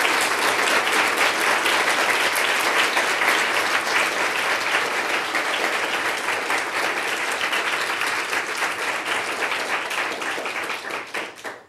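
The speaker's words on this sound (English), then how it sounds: "Please do give them a round of applause." Loud, sustained applause from an academic workshop audience, dense overlapping clapping filling the room for several seconds before tapering off at the end.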